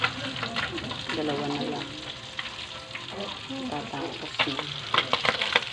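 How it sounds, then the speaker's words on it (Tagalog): Food fries and splatters in a hot pan, a steady crackling sizzle with scattered sharp pops, close by, while a person talks over it. "Ayan ang aking prito. Tumatalsik."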